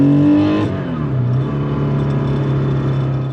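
1200HP Barra-engined Ford Mustang, loud and close, engine revving high then dropping pitch on a gear change and pulling hard again with a steady droning roar.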